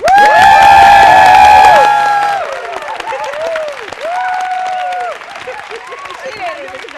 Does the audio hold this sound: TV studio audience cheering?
yes